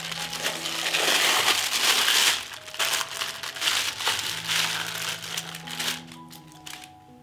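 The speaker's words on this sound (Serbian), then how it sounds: "I izvadit ćemo slaninu iz kese." A plastic bag crinkles and rustles loudly up close as cured bacon is pulled out, with dense crackling for the first couple of seconds, then softer, intermittent handling rustles.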